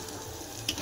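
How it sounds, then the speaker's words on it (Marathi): Onion frying in a pan gives a brief, steady soft sizzle with a faint stir or scrape near the end. "आता कांदा पण तिने मस्त तळून घेतलाय"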